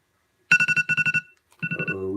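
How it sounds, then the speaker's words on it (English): A phone alarm goes off in quick pulsing beeps, a fast burst of about nine tones, a short gap, then a second run fading into a lower hum, fairly loud and near. "We got an alarm."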